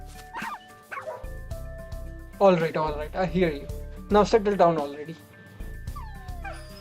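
Dog warriors in the video game Fate Grand Order let out small yips, whimpers and barks, with a game voice speaking at the same time and music playing quietly underneath.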